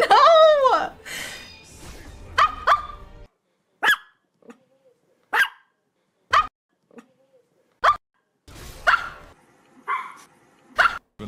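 Small Chihuahuas and Pomeranians bark in short, sharp yips scattered across quiet gaps, with one long whining howl at the start, close and loud.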